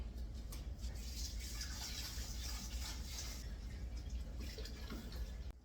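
Water pours and splashes into a stock pot holding canning jars, a soft steady trickle and fill sound at low volume.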